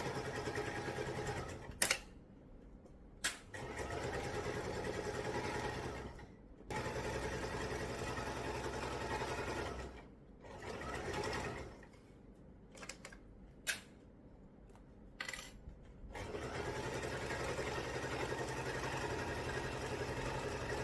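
A sewing machine stitches a storage cube bag in several long whirring runs separated by short pauses and sharp clicks, steady and close with no one talking.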